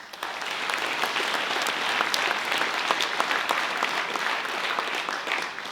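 A hall audience applauds association members at a mayor's New Year greetings ceremony, steady dense clapping from many hands sustained throughout at an even level.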